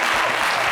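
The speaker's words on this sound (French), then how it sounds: "Applaudissez encore" Loud, dense applause from an audience at a televised showbiz event, a brief burst of continuous crowd clapping with no talking over it.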